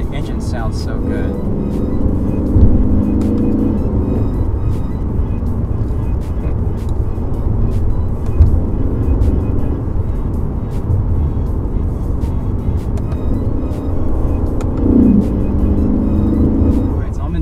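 Loud, steady engine roar from a Lexus RC F accelerating in manual and Sport Plus mode, with revs rising and dropping through several shifts and a low drone running throughout. Faint talk sits beneath the engine.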